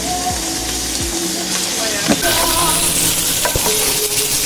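Mushrooms and shallots frying in beef steak juices give a steady sizzle with clinks and scraping stirs, loud and close throughout.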